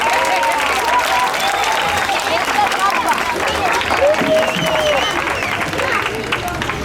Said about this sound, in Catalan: Si voleu, podeu aplaudir.